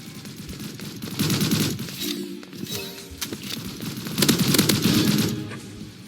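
Gunfire in the video game Hypershot, rapid bursts of shots in quick succession, loud and close, with a few pauses between volleys.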